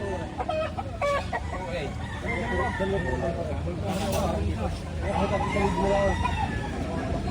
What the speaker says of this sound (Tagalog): Medyo magugulang na itong mga manok na ito.